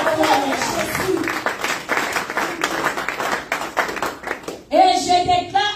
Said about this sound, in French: Acclamez Jésus pour cette parole. On acclame Jésus.